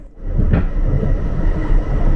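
A Toronto light metro train rumbles loudly past up close, a dense low roar of wheels and motor with faint rhythmic rattling.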